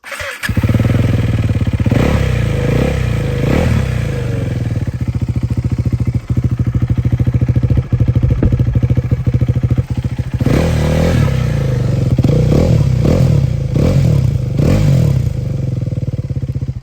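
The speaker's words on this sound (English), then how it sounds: "Now I'm going to start the bike, and you better put your headphones on for this one." A KTM 390 Adventure motorcycle engine starts up and idles loudly nearby, then gets revved in several sharp bursts, with a steady throbbing idle running between the revs.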